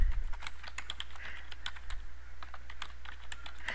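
Quick, light keystrokes on a computer keyboard while entering a page title in OneNote, a close, steady patter of tapping clicks with no voices.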